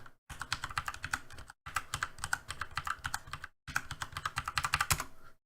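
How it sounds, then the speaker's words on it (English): Rapid clattering keystrokes on a computer keyboard come in three bursts separated by short silent gaps, close and crisp, with no talking. "I'll just have to type in this again"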